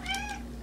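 A cat meows once, close by, a short rising-and-falling cry over a faint steady hum.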